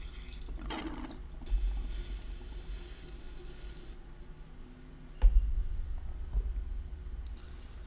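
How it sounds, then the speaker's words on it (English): An old airbrush is flushed with water during cleaning, giving a steady hissing spray burst of about two and a half seconds, then light clicks and knocks from handling the tool. "clean out the old airbrush."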